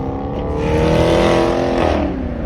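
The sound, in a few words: Dodge Charger ScatPack engine revving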